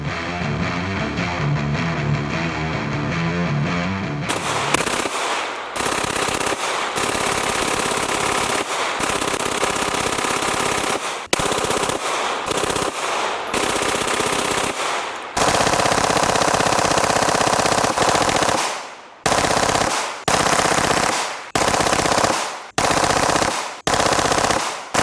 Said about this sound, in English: I put my registered auto sear on this Gen 5 17 MOS and shot all of that 500 rounds full auto